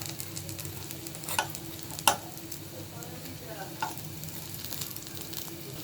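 Flower fritters (bora) deep-fry crisp in oil with a constant soft sizzle, broken by a few sharp clinks and scrapes of stirring, with no talking.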